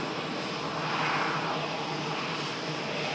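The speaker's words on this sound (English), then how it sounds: "Beautiful Dreamliner. Making the rapid exit and giving us this incredible view." A Boeing 787 Dreamliner airliner rolls off the runway onto a rapid exit at Manchester Airport, its jet engines producing a steady, fairly loud whine and rumble with no voices.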